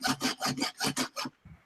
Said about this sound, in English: Somebody's sawing something.